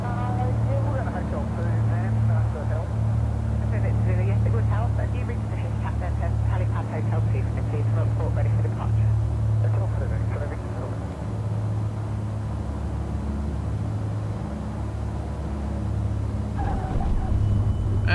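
A Beech Baron 58 twin piston aircraft in X-Plane 12 settles onto the runway, its steady engine drone holding loud throughout with a brief rumble near the end as the wheels touch down. Speech runs under parts of it.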